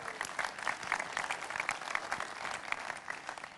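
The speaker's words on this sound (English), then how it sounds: "Two claps. Two claps," A large conference audience at Apple's WWDC 2001 applauds, a steady wash of many hands clapping in a big hall, fairly distant and even throughout, with no voices over it.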